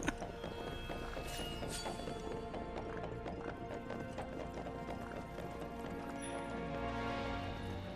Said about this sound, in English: It sounded like a horse walking around.